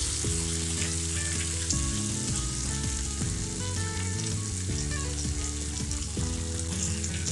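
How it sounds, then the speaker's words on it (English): Onions and tomatoes frying in a pan for dhaba-style green peas masala give a steady, continuous sizzle that runs beneath background music the whole time. "I'm adding 3 medium sized onions here, and we need to cook this well for 5 minutes till the tomatoes become soft."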